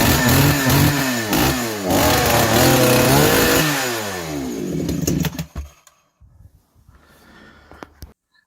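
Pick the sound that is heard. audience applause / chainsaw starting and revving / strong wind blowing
chainsaw starting and revving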